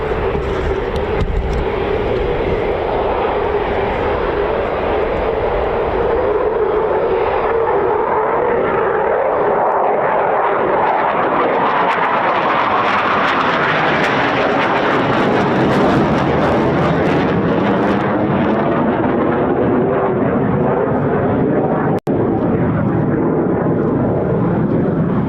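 A Eurofighter Typhoon FGR4 at RAF Coningsby roars at full power with reheat, a loud, continuous jet rumble and hiss that swells and shifts in pitch as the aircraft passes and recedes.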